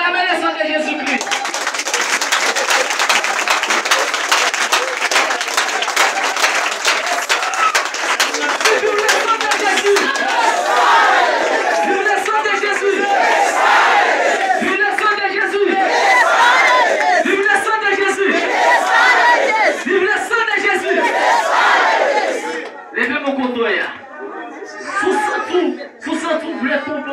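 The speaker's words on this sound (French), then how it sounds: "Acclamez le sang de Jésus-Christ." A church congregation loudly cheering and acclaiming the blood of Jesus Christ: a sustained roar of many voices and shouts, with a preacher's voice running through it before the crowd fades near the end.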